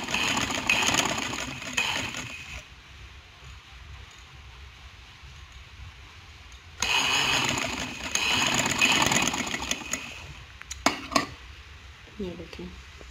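A sewing machine stitches a kurti in two loud bursts of steady whirring, separated by a quieter pause, ending with a few sharp clicks and handling noises.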